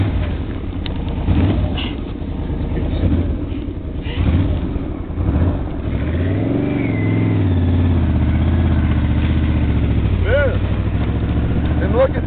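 A motorcycle ridden along a two-track trail in Utah runs close and loud, its engine droning with rises and falls in pitch as the rider works the throttle, wind rushing throughout.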